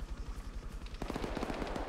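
Gunfire in the military video game Arma 3: rapid automatic bursts, distant and muffled at first, then a denser, closer volley of shots in quick succession.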